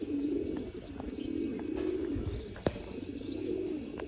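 Pigeons coo in low, soft repeated phrases alongside a few faint chirps, steady and fairly close throughout, with one sharp click partway through.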